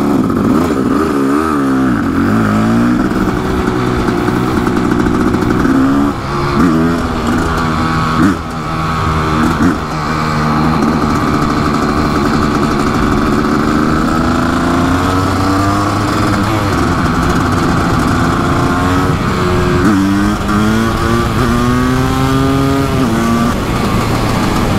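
Kawasaki KX500 big-bore two-stroke supermoto ridden hard, its loud raspy engine climbing and dropping through repeated revs and gear changes, close and continuous throughout.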